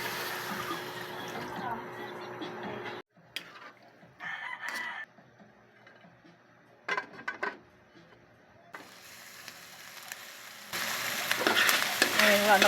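Pork simmering in a pan with a glass of water for Bicol Express: a soft bubbling sizzle at the start, then a near-silent stretch broken by brief clinks and stirring knocks, before a louder hiss builds at the end.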